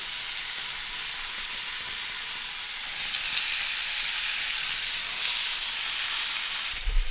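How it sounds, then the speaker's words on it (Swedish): Beef steaks fry in a hot pan, giving a loud, steady crackling sizzle that runs unbroken throughout, with a brief low thump near the end. "Och sedan så får man ju steka den här då en par minuter på varje sida"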